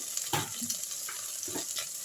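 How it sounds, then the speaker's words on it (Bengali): Okra frying with salt in a hot kadhai gives off a faint, steady sizzle, broken by a few soft scraping stirs; no voices. "সবার আগে আমি ভেন্ডিগুলোকে একটু ভাজা ভাজা করে নিচ্ছি"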